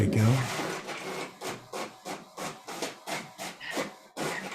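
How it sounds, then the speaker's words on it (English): A printer runs in a rhythmic series of about eight regular hissing, whooshing strokes, close and moderately loud, with a brief voice at the start. "Sounds like a printer worked."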